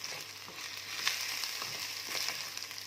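Rice sautéing in a hot pan for koshari, a steady close sizzle and frying crackle with light stirring scrapes, no voices.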